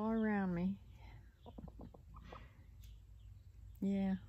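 Backyard chickens cluck softly and close by among a flock, a brief run of short clucks between two longer, loud vocal calls at the start and end.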